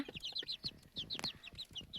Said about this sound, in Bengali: কলম্বিয়ান লাইট ব্রাহামা এই যে এখানে চারটা মুরগি